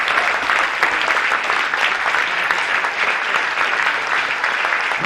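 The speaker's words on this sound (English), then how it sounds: "We would like to thank those standing with a round of applause for your sacrifice and service" Loud, sustained crowd applause at a state amateur baseball tournament game honoring military service members, a thick continuous roar of clapping filling the ballpark without pause or speech.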